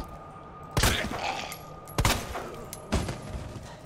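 Three heavy gunshots from a handgun in the survival horror game Resident Evil 2, spaced about a second apart, each a loud sharp crack with a short ringing tail over a quiet ambient background.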